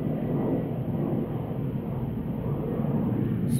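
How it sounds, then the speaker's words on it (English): A low, steady rumble of an airplane drones in the distance, broad and muffled like wind, with no other distinct sounds. "Sorry about the airplane sound."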